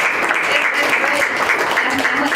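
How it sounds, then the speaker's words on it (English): Dense, steady audience applause at a political gathering fills the whole moment, a continuous wash of many hands clapping with a few voices mixed in. "let's have a round of applause."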